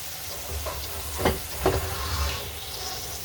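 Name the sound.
bulgogi short ribs sizzling in a pan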